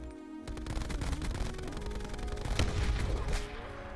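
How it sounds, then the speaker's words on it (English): Rapid automatic gunfire rattles continuously in a Black Ops 4 free-for-all match, dense bursts of shots layered over game music with a louder cluster near the end. "Wasn't there someone shooting from behind?"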